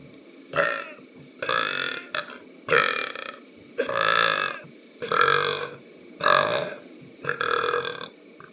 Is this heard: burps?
yes